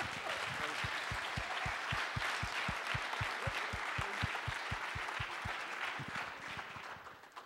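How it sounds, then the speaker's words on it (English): Audience applause at a collegiate cyber defense competition awards ceremony, a continuous broad clapping wash with a regular low thumping pulse running underneath, fairly faint and steady before tapering near the end. "Big round of applause for Tim."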